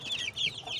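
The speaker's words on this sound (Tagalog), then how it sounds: "Ito kay Papa na mga sisiw niya" Two-week-old Shamo chicks, mixed breed, peep in high chirps, several overlapping calls close by with no talk.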